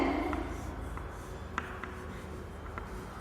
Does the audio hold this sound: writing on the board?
yes